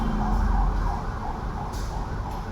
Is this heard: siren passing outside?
yes